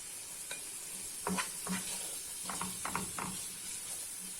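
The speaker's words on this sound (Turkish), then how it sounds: "Birazcık bu şekilde kavrulsunlar." Onions sautéing in a pan for a spinach and rice dish: a steady close sizzle with repeated utensil scrapes and stirring knocks, no talking.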